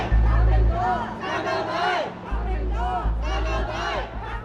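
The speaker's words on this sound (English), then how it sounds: "crowds starting to gather outside a police station in Mongkok" Protest crowd gathering outside a police station in Mongkok, Hong Kong, a loud, dense mass of shouting and chanting voices with rising cries, close and continuous, and low rumble underneath.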